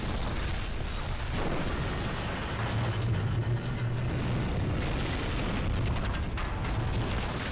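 Explosions from a Skibidi Toilet animated episode boom repeatedly, with dense, loud rumbling blasts and sharp bursts layered over one another throughout.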